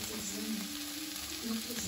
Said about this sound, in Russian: Высыпьте муку в сковородку, перемешайте, посолите, приправьте черным перцем.